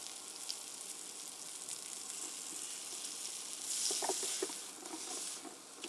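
Food sears in a pan during a live low-carb cooking class, giving a steady, close, loud sizzle with crackling spatter throughout and a brief surge of hissing partway through. No one speaks.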